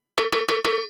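A synthesized atonal pluck with resonance for dubstep plays four quick, metallic, cowbell-like hits in a fast even rhythm, the last one ringing out briefly.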